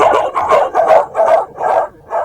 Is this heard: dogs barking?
yes